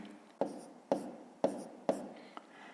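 Pen or pencil writing numbers by hand on paper during a math exercise, four distinct strokes taps at even spacing, close and fairly quiet, with a softer tap near the end.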